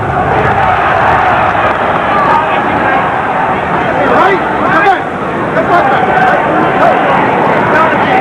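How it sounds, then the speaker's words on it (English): Crowd at a heavyweight boxing match between Bonecrusher Smith and Frank Bruno, a loud, continuous roar of cheering and shouting that swells and dips throughout. "Little support from the crowd."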